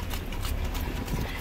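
A dressage horse's hooves clip-clop steadily on the ground for a moment, fairly close, with a low outdoor rumble underneath.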